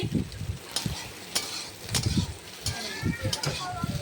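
Soybean chunks frying in a pan with spices being stirred: a steady sizzle with repeated scraping and stirring strikes, and a voice talking over it.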